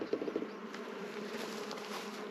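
Honey bees buzz around an open hive during an inspection of brood frames on a hot day, a steady close hum with a few louder passes near the start.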